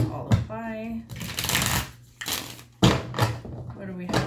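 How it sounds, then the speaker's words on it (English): Tarot cards shuffled by hand in a few quick riffling bursts, close and crisp, with a person talking between and over the shuffles. "Let's get a couple of good shuffles."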